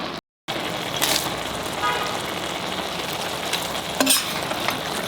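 Chopped pistachios and almonds tipped into a pan of cooking carrot halwa, giving a steady close sizzle and stirring rustle with a few brief scrapes.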